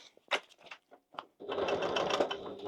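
A home sewing machine stitches along the bottom edge of a fabric bag, starting after a few soft handling clicks and taps, then running steadily at a quiet, even buzz for about a second and a half.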